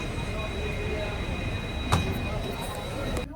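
Rumbling train noise at Raybag railway station in India, with a constant mechanical drone, a brief sharp clank midway, and a faint squeal near the end.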